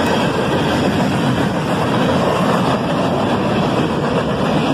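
A southbound CSX freight led by rebuilt CM44AH locomotives races past at top track speed, making a loud, continuous rushing roar of wheels and rail noise close by, with no talking.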